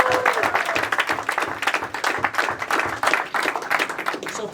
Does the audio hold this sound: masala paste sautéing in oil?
no